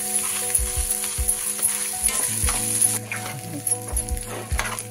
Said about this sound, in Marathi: हाय फ्लेम वरच हा राईस आहे ना छान यात परतवून घ्यायचा आहे